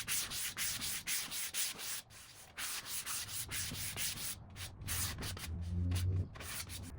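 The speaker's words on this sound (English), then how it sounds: "I sanded in between each coat with 400 grit sandpaper" Rhythmic back-and-forth scraping comes from 400 grit sandpaper rubbed by hand over primer on a mid-century modern wooden dresser, loud and close, with even strokes repeating for several seconds and no talking.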